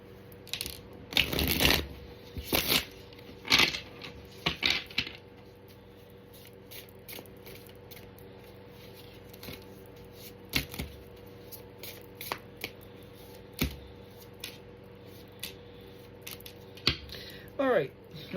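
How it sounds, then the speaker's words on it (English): Tarot cards being shuffled at close range during a reading, in bursts of quick riffling and soft slaps separated by quiet pauses. "Just do a mini shuffle on the shuffle."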